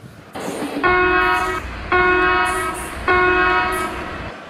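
A loud Indian Railways train horn sounds three times, each blast about a second long, over a steady rumble of rail noise.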